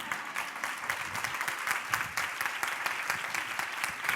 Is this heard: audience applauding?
yes